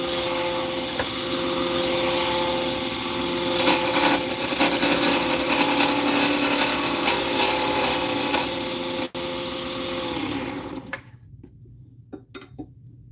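A pen blank is cut on a lathe, giving a loud, continuous whirring and scraping with rough rubbing and chatter from a loose workpiece, ending abruptly in a sharp knock before the spinning winds down to quiet ticks.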